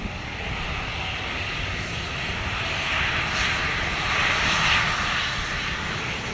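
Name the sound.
Airbus A321 of Sun PhuQuoc Airways landing on runway 25R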